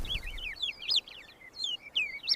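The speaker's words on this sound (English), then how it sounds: "A pair of red-billed oxpeckers spots the new patient." A pair of red-billed oxpeckers on the African savanna give repeated high, thin chirping calls in short bursts, fairly close and alone over quiet background.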